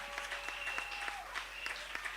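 Church congregation clapping and cheering in praise during a worship service, scattered claps mixed with sustained voices and a held tone, moderately loud and steady throughout.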